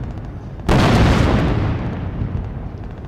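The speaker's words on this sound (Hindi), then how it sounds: "टैंक शत्रु को प्रहार करने के साथ साथ हमारे पैदल सैनिकों के लिए धुएं का एक गुबार बनाते हैं" Tank guns firing during an Indian Army Day 2020 demonstration, also laying down a smoke screen for infantry: one sudden loud boom that rolls into a long, heavy rumble and slowly fades.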